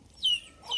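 A chicken in a village yard gives two short, close clucks in quick succession, with quiet surroundings between them.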